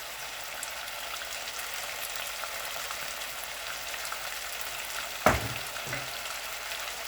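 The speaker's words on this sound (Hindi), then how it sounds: "अब हम इनको अच्छी तरह हिला लेंगे।" Ground red chillies and coriander stirred in a frying pan for white chicken ginger karahi, a steady soft sizzle throughout with one sharp scrape of the utensil near the end.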